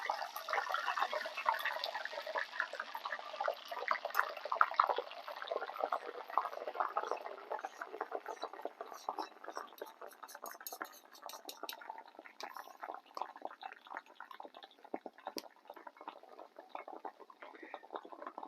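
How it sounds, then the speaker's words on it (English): Loud bubbling, crackling liquid sizzle that gradually thins into scattered pops and spits, close and continuous. "going to be a bit of frying action going on, but that's just the alcohol coming off"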